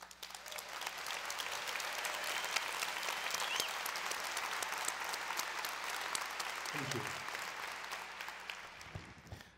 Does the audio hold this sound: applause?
yes